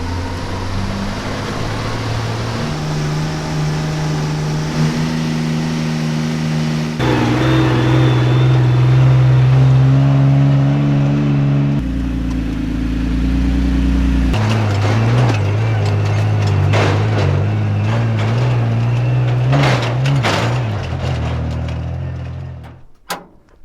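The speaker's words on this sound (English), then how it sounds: "Key on. Push button ignition." A Unimog truck's engine cranks and catches after a push-button ignition start, then settles into a loud, deep, rumbling idle that shifts pitch several times over a long, continuous stretch, with mechanical rattles and no talking.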